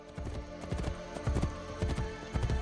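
Horse hooves clip-clopping in Assassin's Creed, the Ezio Collection, set in Renaissance Venice: quiet, regular paired hoof thuds in a steady walking rhythm over a faint musical background.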